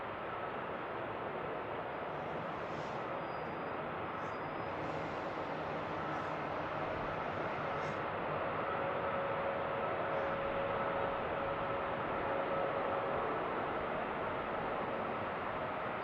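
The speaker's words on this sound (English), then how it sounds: "here's our Delta flight going to Phoenix." A Delta airliner bound for Phoenix passes at Seattle-Tacoma airport: a steady, broad jet roar that holds at an even level throughout, with no talking.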